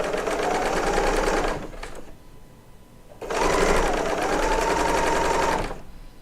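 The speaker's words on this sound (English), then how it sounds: "I am piecing this quilt top on my Bernina L890 combo Serger cover stitch machine" A Bernina L890 combo serger cover stitch machine piecing a quilt top, running in two loud, close, steady bursts of rapid whirring stitching separated by a short pause.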